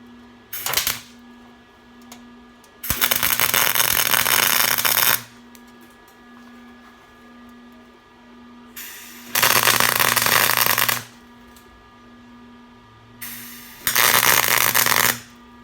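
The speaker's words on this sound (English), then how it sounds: "you'll hear that spattering, that popping, pop, pop, pop, pop, pop" Arc welding on a metal build, with three long bursts of loud, dense crackling and spattering, each lasting a few seconds and separated by quieter gaps with a steady background hum.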